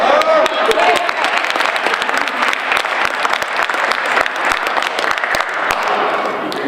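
A lecture audience claps and cheers in lively, uneven applause with sharp individual claps standing out, and a voice talking over it near the start.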